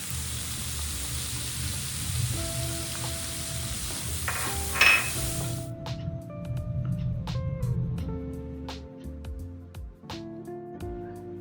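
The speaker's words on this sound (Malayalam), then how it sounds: "സവാളയൊക്കെ ഒന്ന് വാടി വരുന്ന സമയത്ത് നമുക്ക് ഇഞ്ചി വെളുത്തുള്ളി പേസ്റ്റും അതിലേക്ക് ഇട്ട് കൊടുക്കും" Onions frying in a pan with ginger-garlic paste for butter chicken, stirred as they cook: a steady sizzle runs throughout with scraping stir strokes, close and moderately loud, with no talk.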